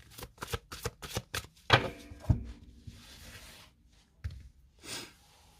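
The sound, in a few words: shuffling tarot cards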